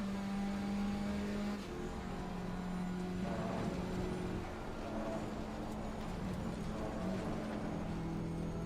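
Race car engine in Assetto Corsa Competizione at Spa, a steady sustained drone with a held low tone that drops in pitch near the start, loud and continuous throughout with no talking.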